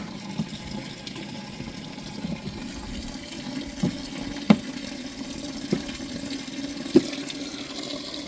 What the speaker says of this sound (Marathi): तिकडं ज्यावेळेस मी पाणी सोडलं तेव्हा इकडे हे पाणी खाली पडतं आहे